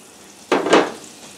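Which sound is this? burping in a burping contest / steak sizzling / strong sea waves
steak sizzling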